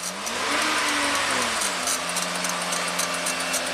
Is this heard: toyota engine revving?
yes